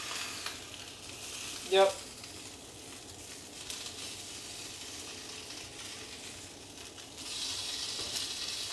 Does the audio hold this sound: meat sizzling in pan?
yes